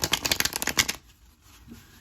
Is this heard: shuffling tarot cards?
yes